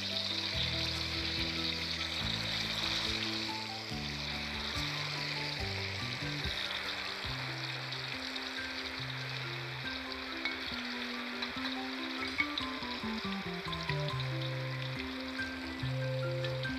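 Tofu pan-frying in oil, a continuous crackling sizzle heard up close and fairly steady, with a low musical tone running underneath and no talking.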